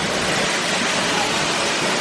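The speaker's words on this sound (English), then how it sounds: "The waterfall action." Waterfall under a rock passage at Rock City on Lookout Mountain, Georgia: a loud, steady broadband rush of falling water, close and continuous with no gaps.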